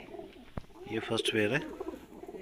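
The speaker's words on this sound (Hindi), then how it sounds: "आज कुछ कबूतर आए हैं" Punjabi Malwai pigeons coo close by, a soft rolling call swelling in the middle of the clip, while someone talks over them.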